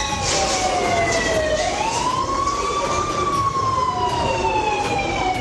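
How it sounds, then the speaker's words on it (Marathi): A loud wailing siren from a civil defence mock drill, its pitch rising and falling steadily and heard close over a rumbling background with traffic noise. "मॉक ड्रिलमध्ये सायरन वाजवून लोकांना अलर्ट केलं जातं।"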